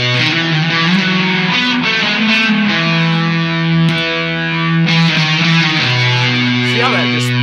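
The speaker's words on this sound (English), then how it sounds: "We're going to try to give you some fuzz tones here" An electric guitar plays loud, thick fuzz-distorted chords and sustained notes through a Mythos Argonaut pedal, with a continuous gnarly buzz and no pauses.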